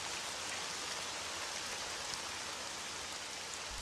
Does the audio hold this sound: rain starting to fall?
yes